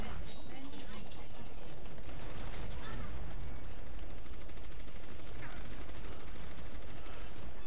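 Rapid, dense gunfire from a green pulse shot in the Overwatch video game is continuous and loud, with clipping throughout and a voice partly buried underneath.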